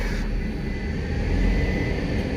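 A chiptuned 218 hp Nissan Juke 1.6 turbo engine drones and builds under load in fourth gear, a low steady rumble that swells slightly toward the end, heard from inside the car.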